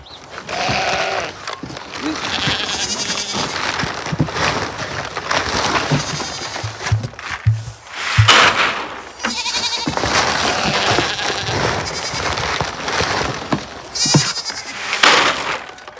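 Goats and sheep bleat repeatedly on a farm, loud and close, with several overlapping calls amid rustling and handling noise. A person talks intermittently.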